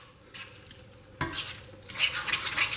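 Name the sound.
pasta cooking water deglazing a pan with bacon bits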